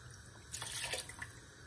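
Tap water runs softly into a kitchen sink as vegetables are washed, a faint steady stream with a few brief splashy surges, no voices.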